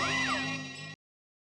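A single drawn-out cat meow, loud and close, with a rising then falling pitch that stops abruptly after about a second, followed by silence.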